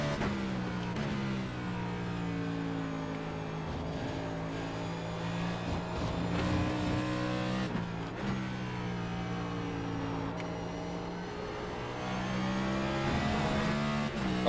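A race car on a hot lap at Watkins Glen, its engine droning steadily with strong harmonic tones that rise and dip through gear changes and corner exits, loud and continuous throughout.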